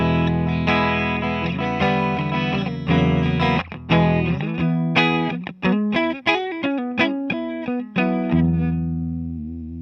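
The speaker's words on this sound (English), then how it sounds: "Just playing on my middle pickup here on my guitar." Clean electric guitar on the middle pickup playing sustained chords that shift into plucked, rhythmic notes, ringing out clearly with no voices.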